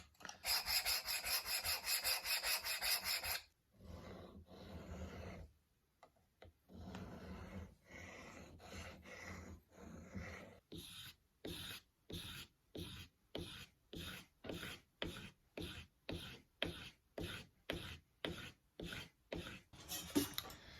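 A kitchen knife is ground on a sharpening stone, opening with a continuous close rasping scrape, then after a pause settling into a regular run of short back-and-forth strokes, each a gritty rub, quiet and close.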